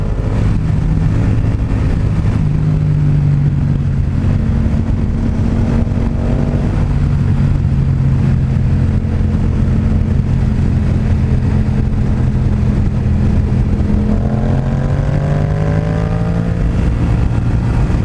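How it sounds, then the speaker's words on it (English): A 2016 Yamaha FZ-07 fitted with a Two Brothers full exhaust rides along, its parallel-twin engine droning loudly and steadily with gear changes and rising revs, close and continuous throughout. "Two Brothers full exhaust. It sounds amazing."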